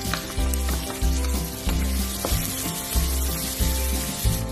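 Onions and garlic sizzle in hot oil for a stir-fried chicken gizzard dish, a steady close crackling fry with rhythmic swells roughly every second as the pan is stirred, no talk.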